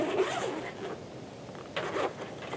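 A zipper is pulled open on the carrying case of an Alpen 20x60x80 spotting scope, two rasping pulls separated by a short pause, close and distinct with no speech.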